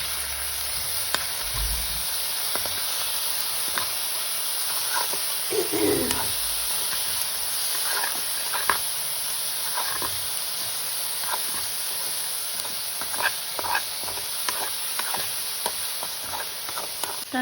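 Chopped green chili and vegetables sizzling in a hot pan, a steady broadband hiss with scattered crackles and occasional spoon scrapes from stirring, close and continuous with no talking.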